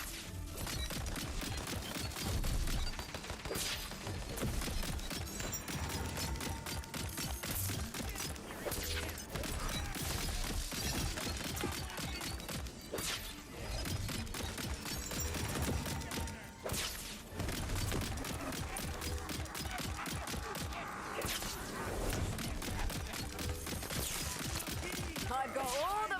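Fast, dense video game gunfire runs continuously, with rapid repeated shots, crashes and impacts layered under music and game effects, staying loud and busy from start to finish.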